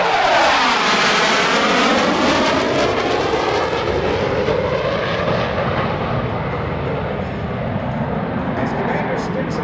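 Military adversary jet roaring past at the 2017 NAS Oceana Airshow, loud and close with a sweeping pitch change as it passes, then a sustained fading engine rumble; a crowd or voice may be faintly mixed underneath.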